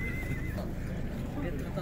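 A horse neighs at a busy horse market in Bishkek, its whinny rising over continuous crowd noise, people talking nearby and a faint clatter of hooves.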